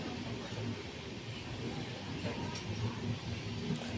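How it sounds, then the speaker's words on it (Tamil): Coimbatore to Mannargudi passenger train running, a steady rumbling rattle of carriages on the rails with constant broadband noise, heard from inside at an even, moderate level. "ஸோ இந்த ட்ரெயின் வந்து கோயம்புத்தூர்லேருந்து மன்னார்குடி போகிற ட்ரெயின்"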